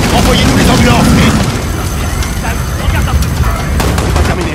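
Gunfire in Modern Warfare 2019 at Piccadilly Circus, a loud, dense wall of shots and booms that fills the scene, with sharp cracks sticking out toward the end and voices under the noise.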